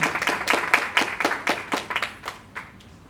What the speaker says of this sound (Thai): ขอเสียงปรบมือด้วยครับมิสเตอร์เฮงลี